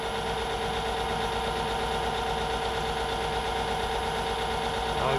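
A Myford ML7 lathe runs in gear with a steady, continuous mechanical hum and whine, close and constant throughout.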